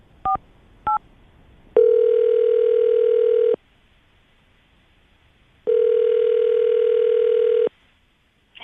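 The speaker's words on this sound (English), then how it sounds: "we're going to call her right now, see if we can get her on the phone" A telephone is dialed for a radio call: two short keypad beeps, then two long steady ringback tones separated by silence, clean and electronic with no talking.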